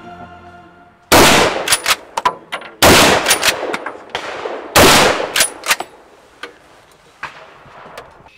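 Gunshots at a shooting competition, three loud close blasts spaced about two seconds apart, each followed by sharp cracking echoes and smaller clicks fading into quiet.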